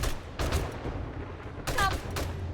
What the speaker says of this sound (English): The combo of the bipod and the muzzle brake to just make it more accurate and eliminate the recoil is so good.